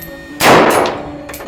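A single sharp rifle shot cracks out, followed by a ringing metallic clang from a hit steel target that decays over about a second, with a fainter second ring near the end.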